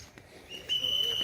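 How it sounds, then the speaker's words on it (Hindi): A person whistles one sustained high steady note that starts partway through, faint and at a distance amid quiet background noise in an old fort. "सीटी मार रहा है ज़बरदस्ती"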